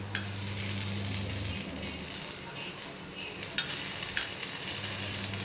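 Paniyaram batter sizzles steadily in a nonstick pan, a close, continuous crackling hiss with a low hum underneath and a few faint clinks, no voices.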